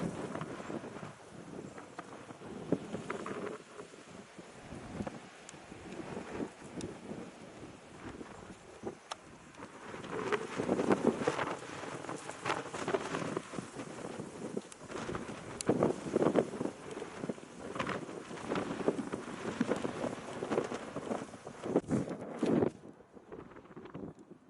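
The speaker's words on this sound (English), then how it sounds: "wind is still kicking" Wind blowing across an open pasture at dusk during a Colorado mule deer hunt, a steady gusting rush that strengthens midway, with faint bird calls and no talking.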